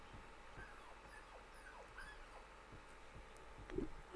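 A starving dog in a video game whimpers and yips softly in a series of short, rising cries at moderate distance, with faint game ambience beneath and a louder bump at the end.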